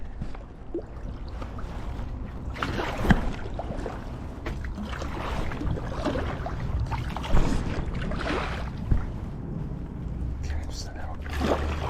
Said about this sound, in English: Just a couple strong paddles and we should be out.